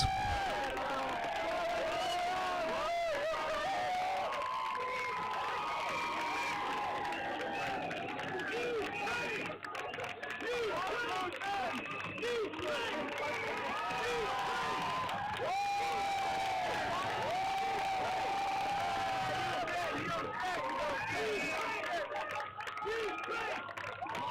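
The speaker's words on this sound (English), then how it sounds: "I just wanted to make sure you could hear the crowd showing their support there to the people of Ukraine" A parade crowd cheers and shouts in support of Ukraine, a steady, dense wash of many voices with scattered clapping and children's shouts, sustained and fairly distant throughout.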